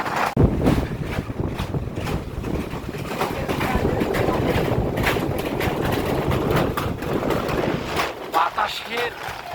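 Strong cyclone Remal winds at a launch ghat on the Baleshwar River, roaring and buffeting the microphone in heavy gusts throughout, with a person talking underneath.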